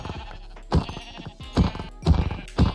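Sheep bleating in a video game, several short wavering bleats repeated at a steady pace, close and clear, with no talk over them.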